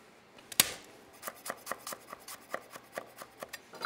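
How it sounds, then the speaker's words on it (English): A knife slices through an onion on a cutting board in a steady run of about fifteen crisp, close chops, each a short tapping crunch, with one louder knock near the start and no talking. "So I wanna add one onion, which I'm gonna just slice."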